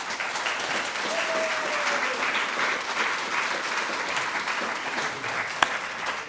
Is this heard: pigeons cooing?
no